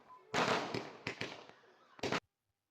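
Several loud firework bursts crackle and pop in quick succession at a birthday celebration, then one final sharp bang before sudden silence.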